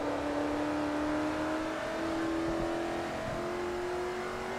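A Saleen race car engine in Forza Motorsport 3, Class S World Tour race, droning steadily with a rising whine as it accelerates, moderately loud and alone without talk.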